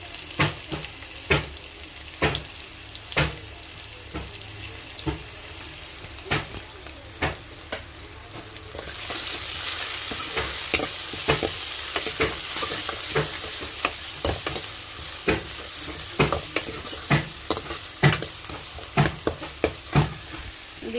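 Potato fry with ground masala and turmeric sizzling steadily in a pan, with frequent scraping stirs that knock irregularly throughout. Partway through, the sizzle grows brighter and louder.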